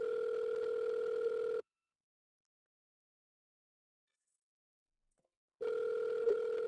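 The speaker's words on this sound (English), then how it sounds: "Lillian, pick up the phone right now." A telephone ringback tone plays while a call waits to be answered: two long, steady electronic rings separated by about four seconds of silence, clear and close.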